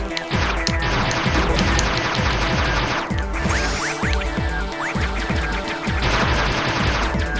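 Enemy shots fire in rapid, dense bursts during AM2R gameplay, a loud continuous volley of repeated impacts and blasts layered over game music, with no pauses across the span.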